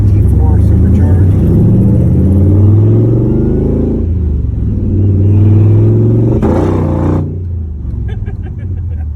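A supercharged LT4 V8 in a Superformance Corvette Grand Sport, rated over 600 horsepower, rumbles loud and close while revving, with the throttle swelling and easing over several seconds and a voice speaking over it.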